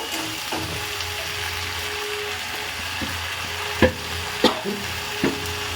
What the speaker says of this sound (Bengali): মশলাটাকে খুব সুন্দরভাবে ফ্রাই করে নেব